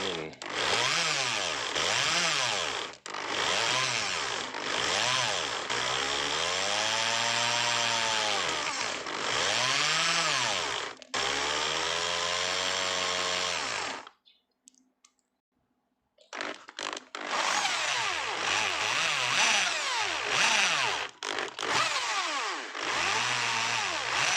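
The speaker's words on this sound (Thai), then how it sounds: "ก็เจาะไปเรื่อยๆนะครับ ให้ขนาดได้ใกล้เคียง" A power drill bores a roughly 22 mm hole for an electrical outlet in a DIY power-meter plug box. The motor whines loudly with rising and falling pitch in long runs broken by short pauses.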